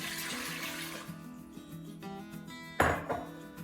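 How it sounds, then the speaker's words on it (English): Three cups of water poured into the metal liner pan of an Instant Pot, a short splashing pour near the microphone that swells then settles, with a brief loud clatter of the liner partway through. "we're gonna place the 3 cups of water inside the Instant Pot liner"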